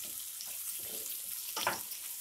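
Onions and slit green chillies sizzle steadily in hot oil in a pan, a soft continuous frying hiss with a brief louder crackle as ingredients are stirred or added.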